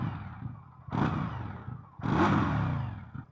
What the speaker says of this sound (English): That stock exhaust actually doesn't sound too bad,